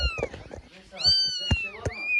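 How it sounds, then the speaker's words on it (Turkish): Kittens mew in high, thin calls, several short and one long drawn-out cry, close by and mixed with people talking. "Arkadaşlar kediler çok tatlı"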